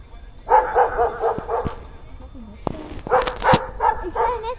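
A German shepherd dog barks in an outdoor setting, several sharp barks in bursts, fairly close, mixed with people talking and chatter around it.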